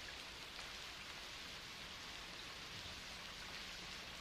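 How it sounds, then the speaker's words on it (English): Steady heavy rain hisses continuously, a dense even wash of drops with no pauses or voices. "It's raining hard."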